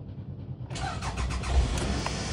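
A 2004 Toyota RAV4 fitted with a replacement ECU cranks briefly and catches, its engine then settling into a steady idle rumble close by, with no voices.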